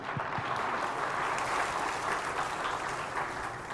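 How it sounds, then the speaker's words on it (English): Steady crowd applause, dense clapping that fills the whole stretch evenly without a break, moderately loud. "Please, one more time, a round of applause."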